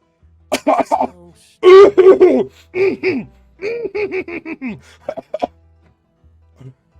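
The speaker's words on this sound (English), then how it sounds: "Sorry, I was clearing my throat." Someone clears their throat several times in a row, with rough coughing bursts spread across a few seconds and a quieter one at the end.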